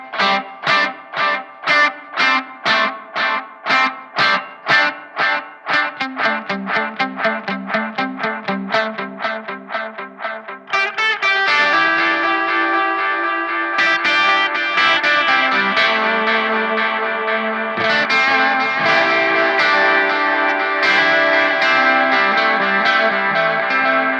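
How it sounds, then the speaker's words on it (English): Electric guitar through a Positive Grid Spark practice amp's tape echo effect, modeled on an old Echoplex: rhythmic picked chords with repeating echoes, then sustained, thick strummed passages with trailing repeats, loud and alone. "Finally, echo tape, which is like an old Echoplex."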